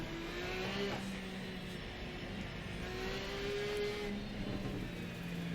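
A Porsche race car in a racing video game at Monza, its engine droning steadily with rising and falling pitch as it rounds the final corner, continuous and fairly loud with no talk over it.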